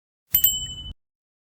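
A single bright notification bell ding, a short metallic chime that rings out cleanly for about half a second and stops, alone with no other sound.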